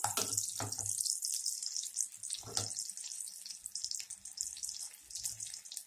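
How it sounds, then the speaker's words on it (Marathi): Spinach pakoras (palak bhaji) slide into hot oil and fry with a steady, close crackling sizzle broken by a few heavier splashes and bubbling bursts, no voices. "अशा पद्धतीने आपण हव्या त्या आकारामध्ये या भजी तळून घेणार आहोत"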